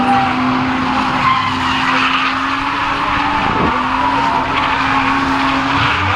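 Glass ceiling light fixture coming down, with faint clinks and rubbing of glass and metal parts, a few scattered taps, then a louder cluster of handling noises near the end, close and without speech.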